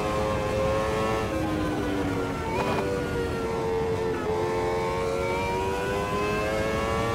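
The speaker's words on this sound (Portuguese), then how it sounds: "Eu gostei do som do carro." A racing car engine in the video game Automobilista 2 drones steadily, its pitch sliding up and down with gear shifts over a constant rumbling background.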